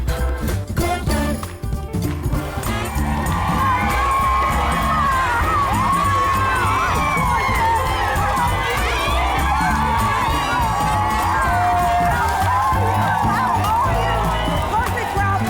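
Studio audience cheering and whooping at the opening of a talk show, a loud sustained roar of crowd noise with music underneath and voices shouting throughout.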